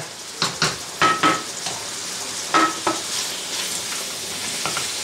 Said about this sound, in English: So it should start sizzling soon.